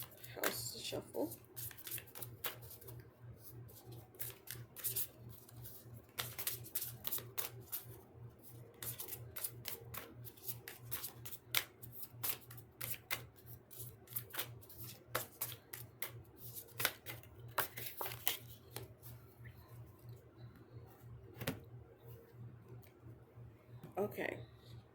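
Tarot cards are shuffled by hand in quick, soft riffling bursts and clicks, fairly close and quiet, with a person talking intermittently between them.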